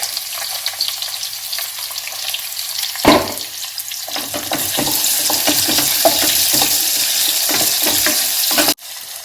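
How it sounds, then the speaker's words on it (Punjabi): Garlic and onion fry loudly with kalonji seeds in a pan for aloo sem sabzi. A dense, continuous sizzle grows stronger after a sharp clatter, with repeated stirring scrapes close by and no talking. "ਫਿਰ ਆਪਾਂ ਲਸਣ ਤੇ ਪਿਆਜ਼ ਪਾ ਦਾਂਗੇ ਇਹਨੂੰ ਚੰਗੀ ਤਰ੍ਹਾਂ ਭੁੰਨ ਲੈਣਾ ਹੈ"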